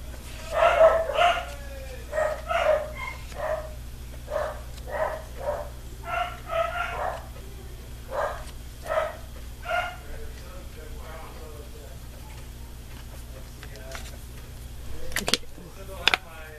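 A dog left inside the house barks in short repeated bursts, about a dozen yips and bow-wows spread through the stretch, fairly close, over a low steady hum with no talk.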